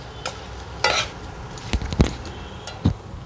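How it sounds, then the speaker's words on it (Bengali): Onion, garlic, dry chilli and prawns frying in a pan for a red amaranth dish, a soft sizzle under several sharp clinks and scrapes of a spoon against the pan, close and without talk. "পেঁয়াজ রসুন ভাজা হবে, ওর সাথে ভাজা হয়ে যাবে।"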